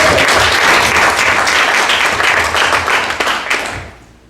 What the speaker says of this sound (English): Give us a big round of applause for Teju.